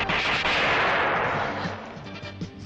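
Gunfire in the animated series Battle Hawk comes as a heavy burst of booming shots that blur into a roaring rumble, fading over about two seconds with a few sharp reports near the end.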